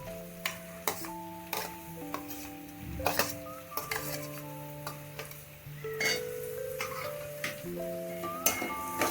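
Ginger, garlic and onion masala is stir-fried with fish in a pan, with a spatula scraping and clinking against the metal and a soft sizzle underneath, in steady irregular strokes and no talk.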